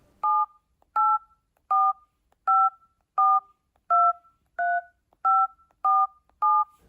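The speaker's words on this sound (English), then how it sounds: "The phone emits a unique beep each time you press a different digit." A telephone keypad sending DTMF tones, ten short, clean two-note beeps, one per digit, evenly spaced at about one per second, loud and alone in silence.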